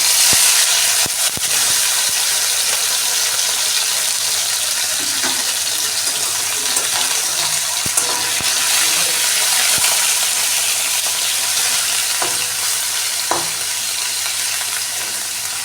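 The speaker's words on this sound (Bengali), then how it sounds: "আমি 200 গ্রামের মতন চিকেন কিমা করে নিয়েছি, সেটাকে প্রথমে ভেজে নেব।" Chicken mince frying in hot refined oil in a wok, a loud, constant close-up sizzle and hiss with scattered clinks and scrapes of stirring throughout, nobody speaking.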